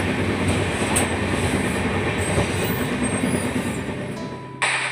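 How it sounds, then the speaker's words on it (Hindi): A passenger train travelling between Alwar and Jaipur in India rumbles loudly and steadily on its rails, heard from inside a carriage, with rhythmic clatter and faint squeal. "तो हम वापस चढ़ गए ट्रेन में।"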